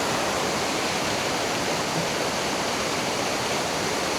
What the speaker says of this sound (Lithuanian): Tai krioklys yra kažkoks.